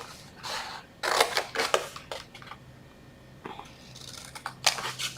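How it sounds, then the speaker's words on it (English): Scissors snip through paper while a small hair-tie box is being made, a series of sharp close crisp cuts in irregular bursts with short pauses between them. "Scissors."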